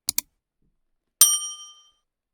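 A bright notification bell dings once, loud and close, its metallic tone ringing out and fading over about half a second after two quick faint clicks.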